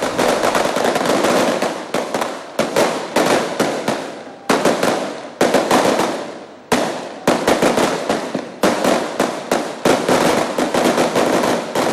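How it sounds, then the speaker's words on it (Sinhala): Firecrackers explode in loud, rapid, continuous volleys of sharp bangs and crackling, with only brief gaps between strings. "ජනතාව රතිඤ්ඤා දල්වමින්"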